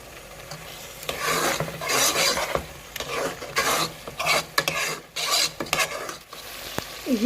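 Spinach is stirred and sautéed in a pan, with repeated scraping strokes and rubbing bursts over a soft sizzle, close up and rhythmic, with no talking.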